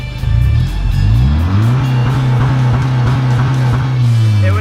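A car engine roars loudly and close, its pitch climbing as it revs hard and then holding at a high, steady drone.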